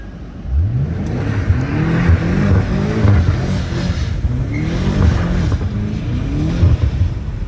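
BMW F90 M5 drifting in a pit, its engine revving up and down in repeated rising surges with tire and wind noise, close and loud without talk.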